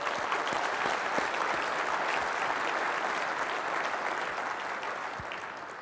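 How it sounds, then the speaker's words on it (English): A conference audience gives sustained applause, a dense wash of many hands clapping at steady loudness for several seconds, slowly tapering toward the end. "ladies and gentlemen, another round of applause for what Jen is doing"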